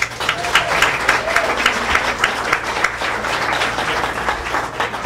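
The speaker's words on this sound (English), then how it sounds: "let's give Jacqueline a round of applause" A crowd applauds steadily, many hands clapping in a dense, even patter that carries on without a break.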